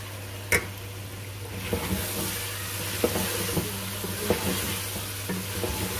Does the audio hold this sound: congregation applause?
no